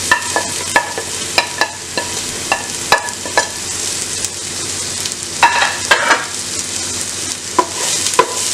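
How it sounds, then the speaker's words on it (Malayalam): Crushed shallots frying in a pan, a steady close sizzle broken by regular scraping clicks and clinks of a spatula as they are stirred. "ചെറിയ ഉള്ളി ചതച്ചത് ചേർക്കാം."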